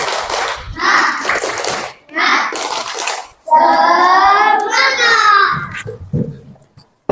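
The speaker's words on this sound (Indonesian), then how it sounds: "Tepuk semangat." A classroom of children performs a rhythmic clapping cheer: two bursts of brisk group clapping, then a chorus of young voices chanting together, a few final claps trailing off.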